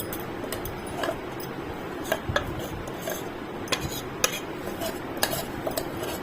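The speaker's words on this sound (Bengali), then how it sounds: "ঠিক করে মিশিয়ে দিই" A spoon mixes homemade kulfi with cashews in a bowl, making close, irregular clinks and scrapes against the bowl, no talking.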